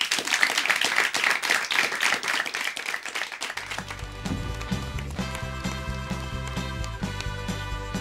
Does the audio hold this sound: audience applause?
yes